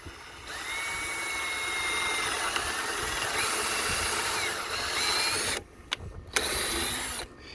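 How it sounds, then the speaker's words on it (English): A power drill whines steadily for several seconds while drilling a hole in wood, then cuts out and restarts in short bursts before stopping. "what I'm going to do is I'm just going to drill a hole"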